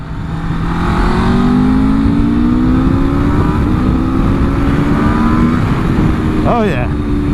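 A 2026 Aprilia RSV4 sportbike, just fitted with a complete replacement engine, drones at steady revs while riding under heavy wind rush, its pitch climbing gradually, with a brief sharp rise near the end.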